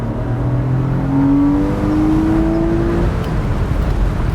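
A Porsche 986 Boxster S accelerating, its engine note climbing steadily in pitch as it pulls through the revs, loud and close with a continuous rumble and no talking.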